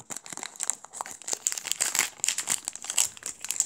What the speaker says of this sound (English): I'll actually open it with the scissors right here. I'll just snip the top off.